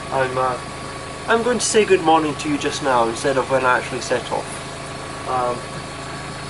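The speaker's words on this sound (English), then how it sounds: "You can probably hear the engine in the background." A moored boat's engine idles on the Norfolk Broads on a rainy morning, a steady low mid-pitched drone running continuously in the background while someone talks close over it.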